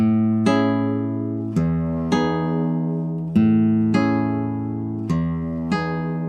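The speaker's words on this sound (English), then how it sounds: "Here I'm playing the index, middle, and ring together. I can include my thumb, it's still a block chord." Block chords plucked with index, middle and ring fingers together on a Spanish guitar, struck one at a time, six or so ringing chords at a relaxed, uneven pace, each left to decay.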